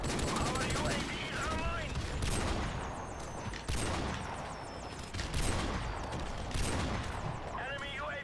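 Rapid bursts of gunfire from a first-person shooter video game, with repeated loud volleys and sharp single shots spread across the clip, played close and continuous with little pause between them.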